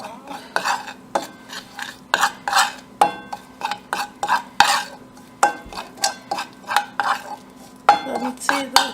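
A spoon stirs oil into a Kerala-style dates pickle with rhythmic, repeated scraping and clinking against the vessel, close and fairly loud, in steady strokes with brief pauses.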